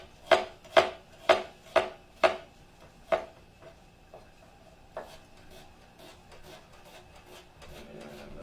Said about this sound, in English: dice up another part of this onion